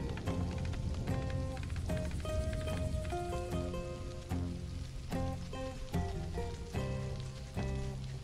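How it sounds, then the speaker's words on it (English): Rain falls steadily in the survival video game Stranded: Alien Dawn, a soft continuous patter heard beneath the game's melodic music throughout. "Bit more rain, get the crops growing."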